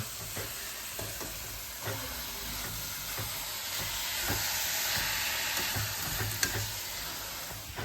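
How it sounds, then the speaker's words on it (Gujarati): Grated carrot halwa cooking in ghee in a pan is stirred as sugar is mixed in, a continuous close sizzle with repeated scraping strokes of the spoon. "ગાજરાની અંદર ખાંડ આપણે મિક્સ કરી દઈશું"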